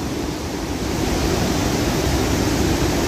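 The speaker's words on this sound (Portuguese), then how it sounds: "paramos aqui na cachoeira. Mas que cachoeira pequena!" Steady rushing water from a small waterfall fills the scene with a constant, broadband roar, close and continuous.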